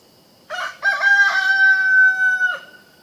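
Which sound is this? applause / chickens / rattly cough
chickens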